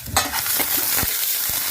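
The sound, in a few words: tempering onion, curry leaves, cumin and mustard seeds in oil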